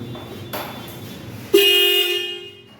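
A loud dual horn on a vintage two-stroke motorcycle blares once in a sustained, bright two-tone honk after a moment of quiet engine-like rumble.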